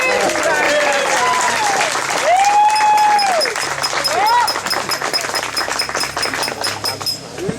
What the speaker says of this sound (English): Vicky's mum and dad and my mum deserve a small round of applause